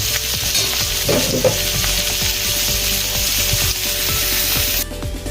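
Beef hits a hot pan with garlic and onion and sizzles loudly and continuously, with a brief scrape of stirring early on and the frying easing slightly near the end.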